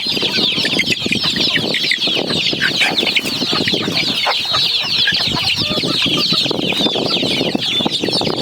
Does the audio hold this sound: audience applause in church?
no